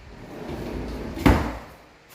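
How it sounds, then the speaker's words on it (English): A sliding closet door in a bedroom of a garage converted into an apartment rolls along its track and ends in a single firm knock, heard close and alone. "Got the sliding door closet."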